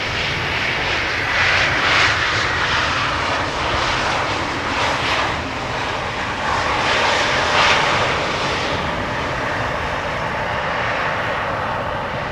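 A Vueling passenger jet arriving at Amsterdam Schiphol from Alicante makes a sustained, loud engine roar with gentle swells in intensity as it passes, alone without voices.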